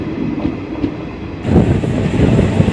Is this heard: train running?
yes